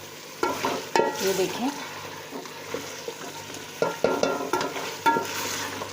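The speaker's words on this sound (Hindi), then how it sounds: "अब नमक मिर्च ऐड करके हम इसकी कर रहे हैं भुनाई।" Chicken korma, degi style, stir-fried with salt and chili in a pot: close sizzling with repeated scraping stirs and clanks of a spoon against the pan, one brief spoken phrase near the start.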